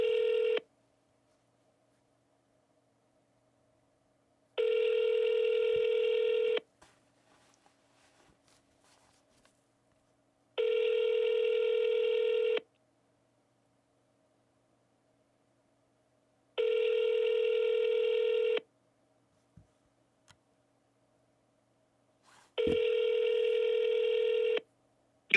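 A telephone rings out on a cold call to a real estate lead, with five evenly spaced ring bursts about two seconds long separated by silent gaps of roughly four seconds. The line is otherwise quiet and no one speaks.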